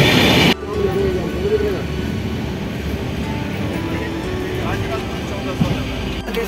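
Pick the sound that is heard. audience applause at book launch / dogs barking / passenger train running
passenger train running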